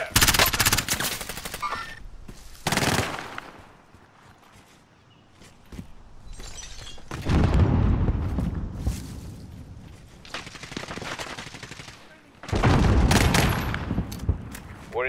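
Bursts of automatic gunfire in Call of Duty Warzone on Rebirth Island, loud rattling volleys with quieter gaps between them, and faint footsteps and distant shots filling the lulls.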